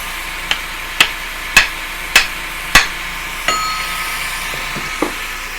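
A hammer drives a wedge into a cedar log: five sharp ringing metallic strikes at an even pace, close and loud, then a few softer taps and a faint ring.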